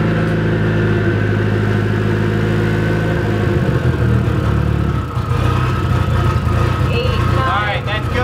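A 450hp Nissan Silvia S14 Kouki car engine held at a steady 1600 rpm, a loud continuous drone with a slight pitch shift partway through, heard alone without voices.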